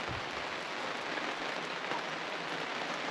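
Steady rain falls on a campsite in New South Wales, a dense, even patter of drops on wet surfaces that carries on unbroken throughout at moderate loudness, with no voices.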